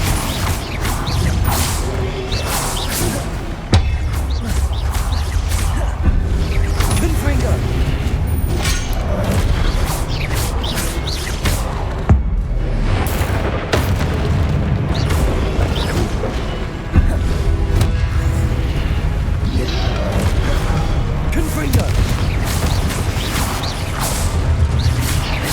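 Confringo blasting spell explosions in Hogwarts Legacy, loud booming impacts and crashes repeating throughout over a dense, continuous bed of game music and effects.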